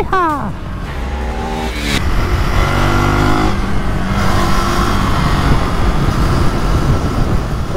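A 2024 KTM 390 Duke single-cylinder motorcycle engine pulls hard out of a corner on a closed twisty road, the rising pitch climbing through quick gear changes with steady loud wind noise and no talking.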